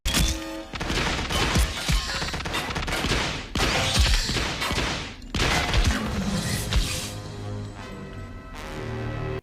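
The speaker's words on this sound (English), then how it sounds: "their combined gunfire is able to take down both of the prehistoric predators." Loud bursts of gunfire crash through a dense, busy movie soundtrack from Carnosaur 3, with sharp shots and impacts layered over a constant rumble and music.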